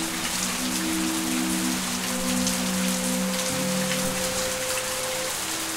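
Steady rain falls in the video game The Path, a continuous wash of drops across the scene with sustained tonal music underneath, no voices.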